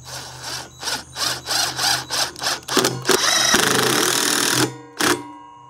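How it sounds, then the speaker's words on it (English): A power driver sinks a screw with washers into a wood block, a series of short pulsing bursts that build into one sustained whir, then stop, followed by a brief final blip, loud and close with no talking. "I'm going to throw a screw in there with some washers,"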